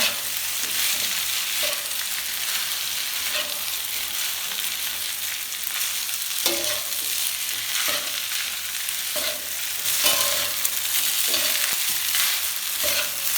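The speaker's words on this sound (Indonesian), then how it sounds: "Dan tambahkan sayuran. Diaduk-aduk supaya tercampur rata." Vegetables and sausage for fried rice stirred in a hot pan, a steady close sizzle broken by regular scraping and clattering strokes of the spatula, with no voices.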